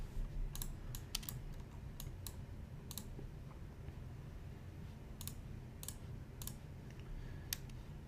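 Quiet typing on a computer keyboard, with short bursts of soft clicking keystrokes separated by pauses over a low background hum and no speech.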